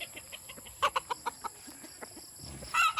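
Seven-month-old gamecock stags, a Sweater crossed with Boston Roundhead, give a quick run of short, sharp clucks in an outdoor pen, close and fairly clear, ending with a louder burst of calls.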